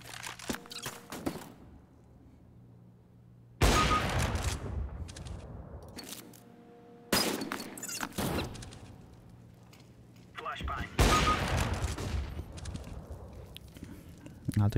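Gunfire in the video game CS:GO, with three loud bursts of shots separated by quieter stretches of in-game movement and footstep sounds.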